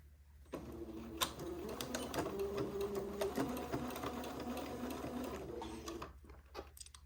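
A sewing machine stitches a Christmas dress in one continuous run of rapid, close mechanical clatter lasting several seconds, then stops, with faint clicks before and after.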